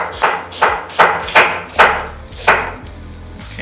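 Kitchen knife chopping a potato into slices and cubes on a cutting board, five crisp evenly spaced chops landing close and loud with no voices.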